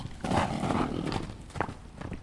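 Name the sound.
Suffolk Punch horse hooves in video game Red Dead Redemption 2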